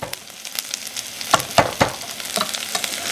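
Smashed ginger sizzles in a hot pan, a close crackling fry with several sharp spits and pops over a steady hiss, and no talking.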